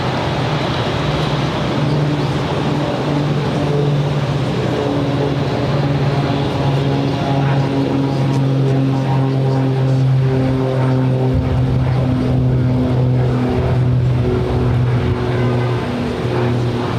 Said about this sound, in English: 27 is ITA coming in from Rome. Next arrivals A330-200